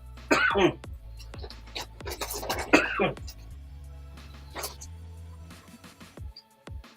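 A few short, harsh coughs near the microphone, scattered between bits of speech over a low steady hum.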